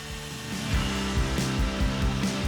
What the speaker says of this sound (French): je viens de finir de scier la coupe de la scie circulaire de table avec la scie sauteuse